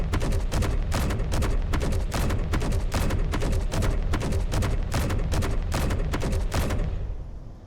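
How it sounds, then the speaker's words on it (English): A long, rapid burst from an automatic gun in the space game Space Engineers, dense evenly spaced loud shots running for about seven seconds before cutting off and fading. "Auto gun. 3-second burst."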